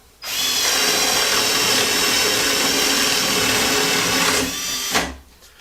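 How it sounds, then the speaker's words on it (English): A Hercules 12 volt cordless drill on speed setting 2 bores a 3/4 inch spade bit through 3/4 inch pine board, a loud steady whine and chewing roar lasting about five seconds before cutting off abruptly. "this 12 volt drill will run a 3/4 inch spade bit pretty much no problem at all"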